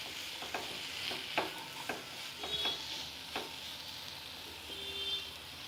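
Small, finely diced potatoes fry quietly in a pan, a soft sizzle broken by a handful of light spoon taps and stirs in the first few seconds, then settling.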